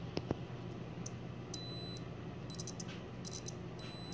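A multimeter on continuity test emits short high beeps in a few separate bursts, quiet against a low hum of background noise.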